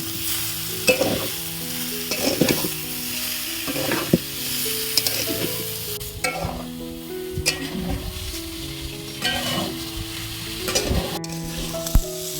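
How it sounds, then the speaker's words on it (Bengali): Ginger, green chili and tomato fry in a pan with steady sizzling, broken by repeated scraping stirs of a utensil at a regular pace, close and fairly loud throughout. "তো দেখো আদা কাঁচা লঙ্কা টমেটো দিয়ে একটুখানি ভেজে নিয়েছি"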